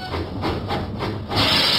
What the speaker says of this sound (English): Huffing and puffing, Thomas set out for Farmer McCall's farm